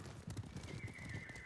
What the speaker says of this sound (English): Horses, but no Mongols atop them.